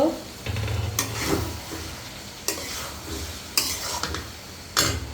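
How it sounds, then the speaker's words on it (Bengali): Egg and potato curry is stirred in a pan: a close, steady sizzle broken by several sharp scraping strokes of a spoon against the metal, spaced about a second apart. "আমি এখন তরকারিটা আবার নেড়ে দিব"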